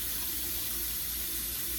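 Water runs steadily from a pair of faucet taps in a rental property, a continuous close hiss of flowing water with no pauses.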